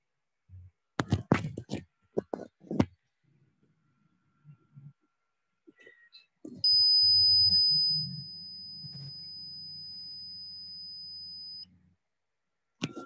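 A steady electronic buzzer alarm on an ESP32 and Arduino smart home system drones for about five seconds with a high thin tone above it, following a few soft knocks and handling sounds.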